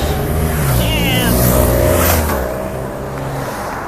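A race vehicle speeds past at the Tour de France stage 3 in Cholet, France, its roar swelling and fading quickly over a loud crowd, with people talking and cheering close by.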